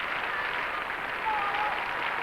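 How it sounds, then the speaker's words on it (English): Bulgarian supporters cheer and applaud in an arena at a 1984 rhythmic gymnastics European championships, a steady, dense wash of clapping from a distant crowd. "There, the Bulgarian supporters cheering"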